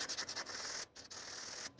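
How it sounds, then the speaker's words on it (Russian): Fine 200-grit sandpaper scrubs quickly back and forth over a disc brake pad, a close, steady rasping broken by a few short pauses. "Поэтому берем мелкую наждачку, мелкую, ну не знаю, в моем случае 200-я. И зачищаем."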